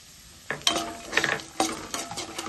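Peanuts and cashews fry in oil for an atukula poha mixture, with a soft sizzle under repeated crisp scraping and rattling stir strokes against the pan.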